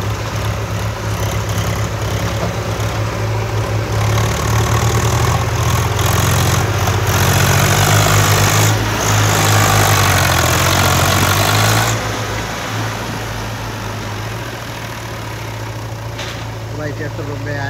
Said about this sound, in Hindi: भाई ट्रैक्टर कोई चढ़ाई पे आ चुका है।